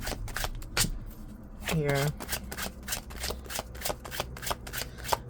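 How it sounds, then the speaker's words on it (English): Tarot cards are shuffled by hand in quick, rhythmic riffling bursts, steady and close, while someone talks softly over the shuffling. "I had to shuffle for a bit."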